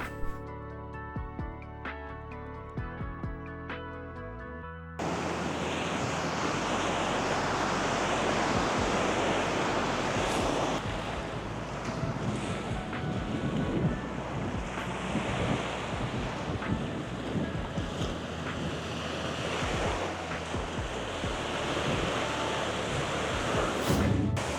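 Ocean surf rolls and breaks steadily on the shore at Navarre Beach, Florida, a loud, continuous wash roughened by wind buffeting the microphone after a brief quieter opening.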